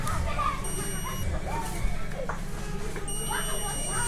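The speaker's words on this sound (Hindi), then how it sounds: "मल्टीमीटर बीप बजना चाहिए।" Multimeter set to continuity mode, probing wiring on a Star sports motorbike that won't start, gives steady electronic beep tones that recur across the stretch, heard under someone talking nearby.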